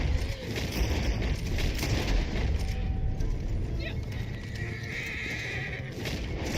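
In the Red Dead Online video game, a horse whinnies amid steady galloping hoofbeats and dense background game noise, with faint gunfire in the mix.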